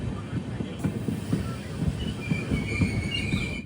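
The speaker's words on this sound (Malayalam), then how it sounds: "ട്രെയിൻ ഇപ്പോൾ കായംകുളം ജംഗ്ഷനിലേക്ക് എത്തുകയാണ്" The Guruvayur–Thiruvananthapuram Intercity Express rolls toward Kayamkulam Junction, its wheels rumbling and clacking loudly over the rails while high metallic squeals rise and drag on through the second half.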